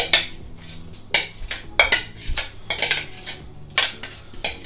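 A utensil scrapes and taps against a blender jar while the last bits of chickpea mixture for chocolate chickpea slices are cleared out, giving irregular clinks and scrapes at close range with no talk.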